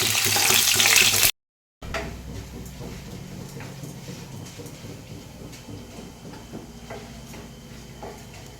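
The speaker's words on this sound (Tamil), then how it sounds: "இப்போ பொன்னிறமாக நல்லா வதங்கிருச்சு சின்ன சின்ன வெங்காயம் சேர்த்துட்டு வரமிளகா நாலு போட்டுக்கலாம்" Small shallots and four dried red chilies sautéing in a pan for a drumstick-leaf chutney give a steady, close frying hiss with faint ticks and stirring clinks, after a brief opening burst and a short gap of silence.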